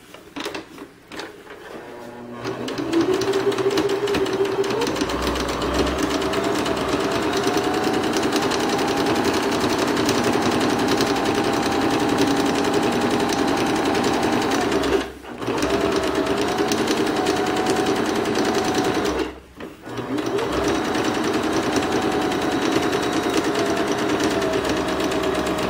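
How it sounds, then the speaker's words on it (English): A sewing machine stitching the last side of a pillowcase with a half-inch seam: a steady, close mechanical whir and rapid needle chatter running continuously, pausing briefly twice before resuming. "I've already stitched up all 3 sides, so I'm going to finish up stitching up that last side."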